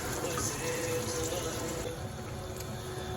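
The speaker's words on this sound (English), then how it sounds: "Add 200 ml of water, then let it boil for like 20 minutes" Water pours steadily into a pot of Nigerian beef curry in a home kitchen, a continuous broadband splashing rush that holds close and even throughout, with no talk over it.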